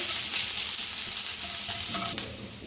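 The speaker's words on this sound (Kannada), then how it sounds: "ಸಾಸಿವೆ, ಕರಿಬೇವು, ಅದರ ಜೊತೆನೇ ಹಸಿಮೆಣಸಿನ್ಕಾಯಿ ಮತ್ತು ತುರಿದ ಶುಂಠಿ ಫ್ರೈ ಮಾಡ್ಕೊಳ್ಳಿ" Mustard seeds, curry leaves, green chili and grated ginger fry in hot oil for a raw banana palya, giving a steady, close, loud sizzle with crackling pops throughout and no voices.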